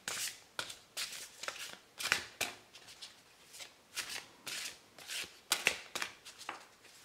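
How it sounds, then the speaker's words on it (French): Cards being handled and drawn from a large oracle card deck, soft papery swishes and flicks in a quick irregular series, close and quiet. "On va se tirer une petite carte."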